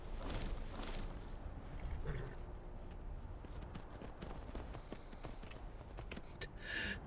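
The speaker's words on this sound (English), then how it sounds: "I like how Sophia just stole a horse." Horse hooves clip-clop steadily in the modded video game Skyrim Special Edition, a quiet rhythmic trot of hoofbeats over soft ambient game sound.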